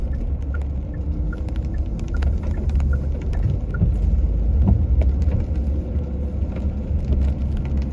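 Rain falls outdoors in an urban area with a steady wash of noise and faint scattered drip ticks, over a low rumble of nearby road traffic that continues throughout.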